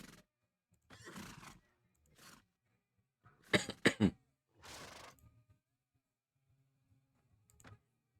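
Horses in the Mount and Blade Warband video game: several short, snorting neighs and whinnies in separate bursts, one loud pair mid-clip, then fainter sounds with quiet gaps between.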